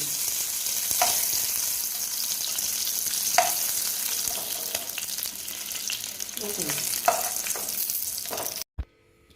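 Katla fish frying in hot oil gives a loud, steady, dense sizzle with crackling bursts throughout, cutting off abruptly near the end.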